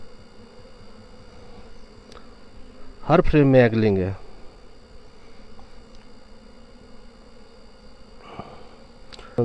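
Honey bees hum steadily at an opened hive during the rainy season, a continuous close drone that runs through the whole stretch, with someone briefly speaking over it partway through.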